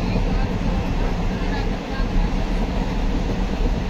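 Loud, continuous rumble and rattle of a moving train at night from inside a carriage, with heavy low-end droning and no pauses.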